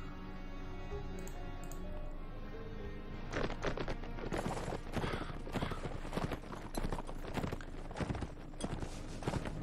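Arabian horse hooves clip-clopping in the video game Mount & Blade, a steady run of muffled hoofbeats under game music with no talk, at moderate loudness throughout.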